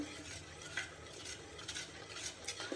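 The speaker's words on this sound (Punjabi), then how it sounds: "ਹੁਣ ਇਹਨੂੰ ਆਪਾਂ ਚੰਗੀ ਤਰ੍ਹਾਂ ਹਲਾਈ ਜਾਣਾ ਇਸ ਤਰ੍ਹਾਂ ਹਲਾਈ ਜਾਣਾ" Besan barfi mixture being stirred in a pan: soft continuous scraping with occasional light spoon taps against the metal, quiet and close, with no talking.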